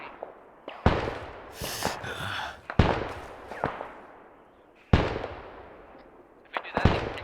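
Mortar fire in the military video game ARMA 3: several loud, sharp booming reports spaced a second or two apart, each trailing off in a rumbling decay.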